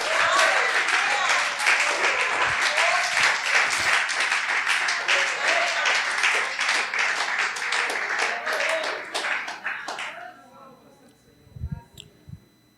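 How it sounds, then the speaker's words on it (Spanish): A church congregation applauds loudly and steadily for about ten seconds, then the clapping fades out, leaving a few soft thuds. "denle un aplauso al Señor"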